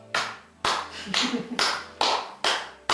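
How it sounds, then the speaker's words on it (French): Slow, deliberate hand claps at a stage hypnosis show, about six sharp, ringing claps spaced roughly half a second apart, with a voice briefly between them. "Et je t'applaudis parce que franchement, tu as été génial."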